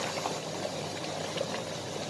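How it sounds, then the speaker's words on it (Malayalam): Boiling water is poured into a pot of rice for Thalassery biryani, a steady, close, rushing liquid hiss that runs unbroken for about two seconds. "നല്ല തിളയ്ക്കുന്ന വെള്ളമാണ് ചേർത്ത് കൊടുത്തിട്ടുള്ളത്"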